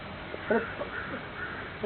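A crow caws a few times in short, harsh bursts, fairly close and clear over steady outdoor background noise.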